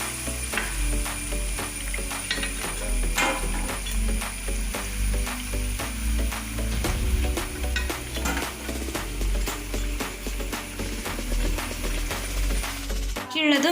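Mysore bonda fry in hot oil with a steady, dense sizzle and bubbling, punctuated by sharp metallic clicks and taps of a utensil against the pan, close and fairly loud.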